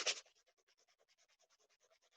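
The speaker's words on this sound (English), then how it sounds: "I have some sandpaper and I am sanding the edges of my nozzle to make it smooth" Sandpaper rubs the edges of a model rocket nozzle in quick, even back-and-forth strokes after one louder opening scrape, faint and close with no talking.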